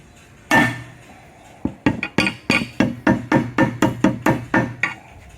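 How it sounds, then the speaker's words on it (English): Repeated metal-on-metal hammer taps drive a socket onto a knock sensor seal in the engine valley of a 2005 Chevy Silverado: one loud strike, a pause, then about a dozen quick, evenly spaced, close, ringing blows with no talking. "Just take a socket and hammer it on"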